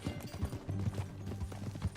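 Horse hooves clip-clop in a quick, uneven rhythm at close range, short and steady, in the video game Red Dead Redemption 2.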